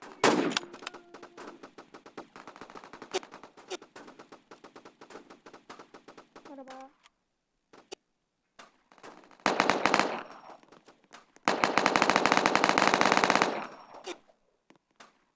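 Rapid automatic gunfire from the Roblox video game, with long bursts of fast repeated shots broken by short pauses, then dense loud volleys, heard alone without talk.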